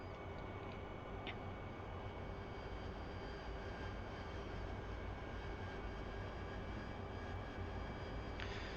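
An AV-8B Harrier flying a conventional visual circuit, its jet engine giving a steady, heavy broadband roar that fills the whole stretch without pause, with a couple of brief faint clicks on top.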